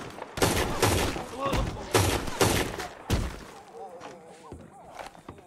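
Gunfire in Red Dead Redemption 2: several loud, sharp bursts of shots land about a second apart, followed by a quieter, scattered stretch of lighter game noise.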